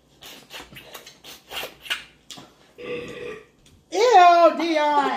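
During a mukbang meal of homemade beef and turkey neckbone soup, a person talks briefly, then lets out a loud, drawn-out burp up close that fills the final second.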